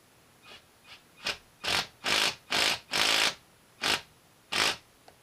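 Impact driver setting a stud into an ice racing tire, firing in a series of short, sharp bursts that lengthen and grow louder, about eight close rattling hits with brief pauses between.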